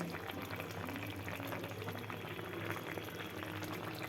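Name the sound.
Tengra fish curry bubbling in the pan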